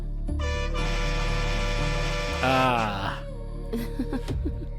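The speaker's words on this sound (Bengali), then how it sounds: "আপনার হর্ন।" A long, steady vehicle horn blares nearby for a few seconds, then wavers and stops, followed by a brief voice.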